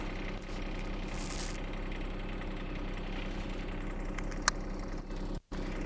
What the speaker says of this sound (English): we're first going to start the machine up